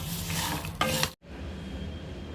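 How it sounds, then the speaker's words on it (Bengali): A spoon scrapes and stirs thandai ingredients being dry roasted in a pan, a soft steady rustle with a few sharper clinks near the end before the noise briefly cuts out. "এবার সবকিছু ভালো করে আরেকবার নেড়ে চেড়ে একটা হালকা হালকা ড্রাই রোস্ট করে নিচ্ছি।"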